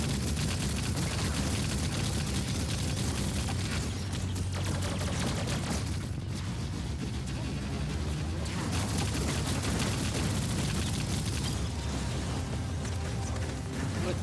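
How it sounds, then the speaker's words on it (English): A 1069-CPU hover bot called Chain Mosquito lays down long, sustained gunfire in a video game, a dense and unbroken roar of rapid shots with mechanical clatter that stays loud throughout. "this is a long sustained fire"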